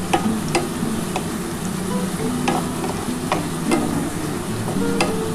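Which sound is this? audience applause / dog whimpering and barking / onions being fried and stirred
onions being fried and stirred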